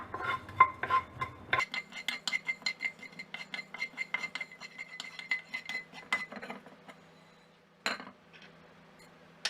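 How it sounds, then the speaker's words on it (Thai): Coriander seeds are dry-roasted over low heat and stirred nonstop, producing a rapid rhythmic rattle of seeds and spatula scraping against the pan, close and crisp, with a brief pause near the end before it resumes. "คั่วลูกผักชีก่อนนะคะ จากนั้นก็คั่วไปค่ะอย่าหยุดมือนะคะ คั่วด้วยไฟอ่อนๆ"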